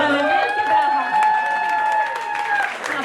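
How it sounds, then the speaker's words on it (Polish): Applause from an audience at a Great Orchestra of Christmas Charity (WOŚP) charity auction in Sydney, a steady wash of clapping lasting about three seconds, with a voice and ringing tones over it. "Naprawdę wielkie brawa"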